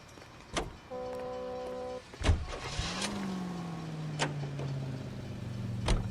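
Car in the L.A. Noire video game: a door closes, the engine starts and settles into a steady driving hum, with sharp clunks and clicks over the first few seconds and no talking.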